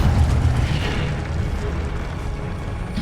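A fire spell bursts in Hogwarts Legacy, a loud deep whooshing boom that swells at once and then trails off into a lingering rumble.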